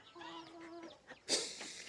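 Hens clucking close by in short, soft calls, followed near the end by a sudden louder squawk, with a faint voice in the background.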